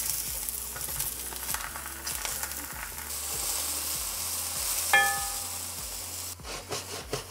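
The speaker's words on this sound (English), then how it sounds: "when your pan's hot, add the mushrooms, straight in. You hear that sizzle?" Mushrooms sizzle and crackle in a hot pan, a steady frying hiss with occasional scraping and stirring knocks, close by.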